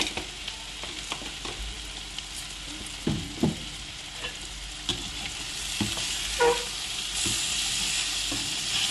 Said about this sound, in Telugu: ఇప్పుడే పులుసు ఉడికిపెట్టారు